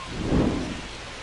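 Steady rain falling on a night ballpark in MLB The Show, a baseball video game with the Los Angeles Angels hosting the New York Yankees, a soft broadband wash swelling briefly then holding even and unbroken, with no voices over it.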